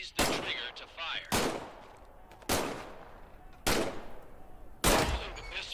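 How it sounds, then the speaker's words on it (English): Pistol shots in Medal of Honor: Above and Beyond, five sharp loud cracks spaced about a second apart, each trailing off into a brief echo. "Grab the pistol from its holster on your hip. Squeeze the trigger to fire."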